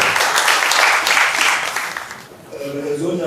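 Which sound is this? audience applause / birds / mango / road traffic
audience applause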